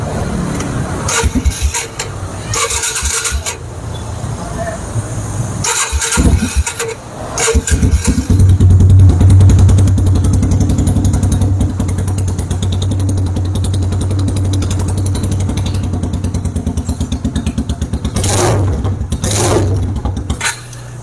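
A motorcycle engine is cranked in a few short bursts, then catches and settles into a loud, steady idle with a deep rumble, a quick rev near the end.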